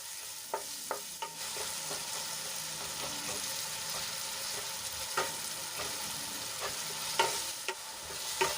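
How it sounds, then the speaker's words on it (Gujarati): Onions sautéing in oil in a pan for Punjabi-style rajma, a steady sizzle with scattered stirring clicks and scrapes against the pan, close and alone with no voices. "તેલમાં સરસ રીતે મિક્સ કરીને આપણે ગુલાબી રંગની થાય ત્યાં સુધી સાંતળી લઈશું"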